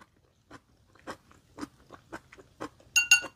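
Crunchy bites and chewing of large, uncut khon son mushroom pieces from a tom yum chicken soup, with several crisp crunches spaced through the moment and a brighter, louder pair near the end, close up and without talk.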